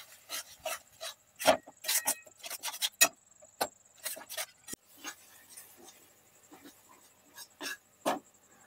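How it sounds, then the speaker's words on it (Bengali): Coriander, tomato and green chilli paste being stirred in a pan for Roopchand fish curry, giving a run of scraping, rubbing spatula strokes in quick irregular bursts, close and fairly quiet with no talk. "এই মশলাটা দেওয়ার পর আমি ভালোভাবে মিশিয়ে নিচ্ছি"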